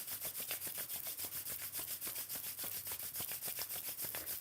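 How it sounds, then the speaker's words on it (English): Palms rubbing together briskly after a drop of oil is placed in the hand, a close, dry, rhythmic back-and-forth swishing with steady repeated strokes and no voices. "just rub your hands together"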